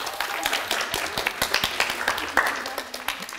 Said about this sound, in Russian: Эти аплодисменты для вас.